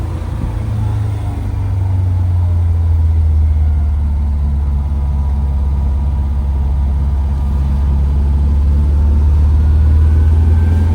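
The four-cylinder engine of a 1972 Volvo P1800E runs with a steady, loud, low, throaty drone. The hum stays even for the whole stretch, heard close and alone without any voices.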